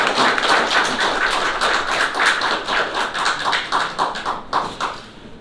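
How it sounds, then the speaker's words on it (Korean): Audience applause fills a press conference for a Yeoju mayoral candidate's campaign announcement, a steady, close patter of many hands clapping for several seconds before thinning out. "뜨거운 박수로 맞이해 주시기 바랍니다."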